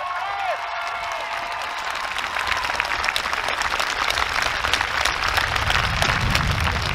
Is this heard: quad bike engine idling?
no